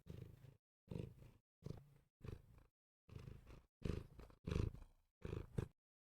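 A cat purrs right up close, a deep rattling rumble pulsing in an even rhythm with short silent gaps between breaths.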